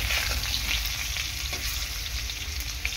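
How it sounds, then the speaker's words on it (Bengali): Potatoes fry in hot oil in a home kitchen, a dense, steady sizzle close by with light stirring scrapes and no voices. "ভালো করে আলুটা লালচে লালচে করে ভেজে নেব।"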